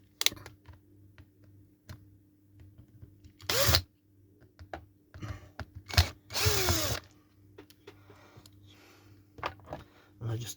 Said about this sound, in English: I'm doing it quicker with the battery drill.